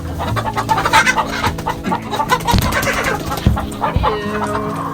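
A Marans rooster and hens in a coop cluck loudly and close by, with overlapping busy clucks and calls filling the space and no talking.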